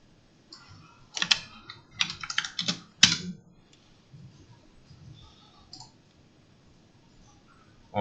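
Computer keys are pressed in quick bursts of clicky taps, a cluster of rapid strokes followed by softer, sparser clicks, close up and without talking.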